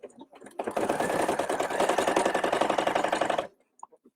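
A sewing machine stitching a line on fabric for a knotted headband, one continuous rapid whirring run of about three seconds, close and loud, with brief handling noises before and after.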